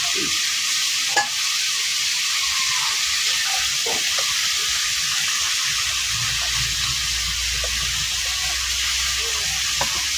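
Mixed vegetables fried and stirred in a pan, a constant close sizzle with occasional light scrapes and knocks of the spoon and no talking.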